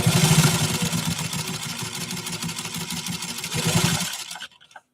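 A Singer 15-91 sewing machine drives through six layers of heavy canvas with a loud, close motor whir and rapid needle chatter. Its speed eases up and down before the machine stops and goes quiet.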